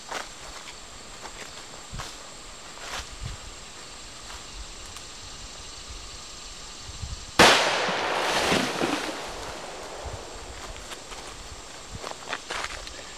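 A single sharp gunshot from a Ruger Super Blackhawk .44 Magnum revolver fired outdoors, a loud crack followed by a broad, decaying echo over a quiet background with faint rustling and footsteps.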